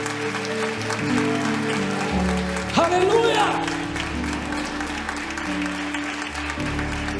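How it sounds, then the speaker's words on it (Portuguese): A church congregation applauds through a worship service, the clapping spread across the hall under sustained music and a shouted exclamation from the crowd. "Você pode aplaudir Jesus?"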